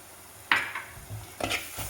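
A few short scraping stirs of crab curry spice mix with coriander powder in a pan, two or three quick strokes with a faint sizzle between them, close and fairly quiet.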